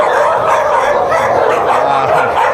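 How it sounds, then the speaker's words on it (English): Stray dogs at an adoption shelter in the Philippines bark loudly and continuously at a stranger, a dense chorus of overlapping barks and yips close by, with no speech. "The dogs don't know me. Start barking."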